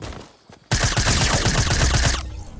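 Rapid, loud SMG gunfire in the video game Fortnite, a continuous burst of closely spaced shots lasting nearly two seconds after a brief quiet lead-in, then cutting off abruptly.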